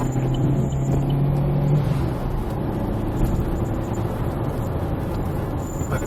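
A car driving on a road, with a steady engine drone and road rumble heard from inside the vehicle, continuous and moderately loud throughout.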